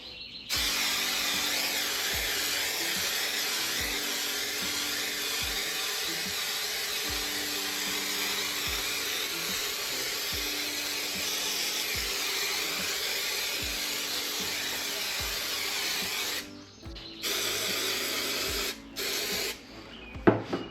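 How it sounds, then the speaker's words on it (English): A continuous hiss of spray from an aerosol can, sprayed in a straight line rather than a cone, runs steadily for about sixteen seconds, then breaks into a few short bursts near the end. "I'm gonna take the spray can."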